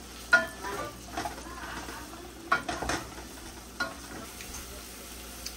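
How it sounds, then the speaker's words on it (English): Onions being sautéed in a pan, a soft steady sizzle broken by a few louder spatula stirs and scrapes spaced a second or more apart, close and fairly quiet with no talk. "this is just to saute the onions"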